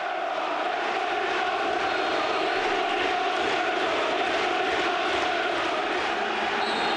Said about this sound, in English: there was a minute's applause for West Ham's most successful manager, John Lyall